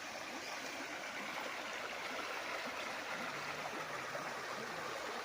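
A river runs along a sloping farm property boundary in Nagcarlan, Laguna, giving a steady, soft rushing and gurgling of flowing water that continues evenly throughout with no voices.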